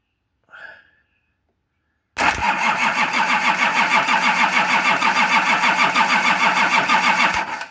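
A Nissan LD28 diesel engine that has not run for years cranks hard and steadily for about five seconds, a loud, close, rhythmic churning after a brief faint sound and silence.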